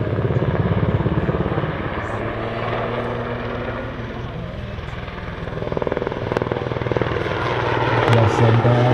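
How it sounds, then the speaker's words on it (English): Super Puma helicopter performing a display at an airshow, its rotor chopping loudly and steadily throughout as the engine note rises and falls, with a commentator's voice over a public address system. "you hear the massive forces acting on this rotor."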